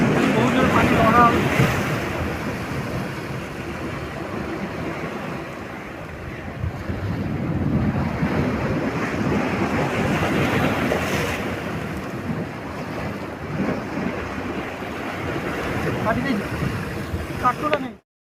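Strong sea waves surge and crash against rocks on the Odisha coast during a fishing trip, a rolling roar that swells and recedes under blustery wind, with voices speaking over it.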